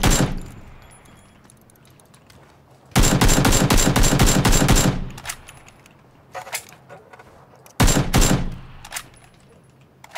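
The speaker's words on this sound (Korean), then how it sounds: "왼쪽 언덕에서 나 미친 듯이 쏜다" AKM rifle gunfire in the PUBG Battlegrounds video game, loud close bursts of rapid shots separated by quieter gaps and scattered single cracks, with faint background activity.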